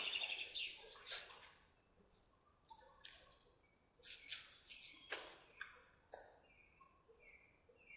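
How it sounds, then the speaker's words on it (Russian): Crows call in a forest: faint, distant, scattered harsh calls over quiet woodland background, with no talk. "Вороны каркают."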